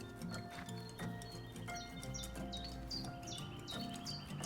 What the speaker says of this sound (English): just so you can hear the sound of the birds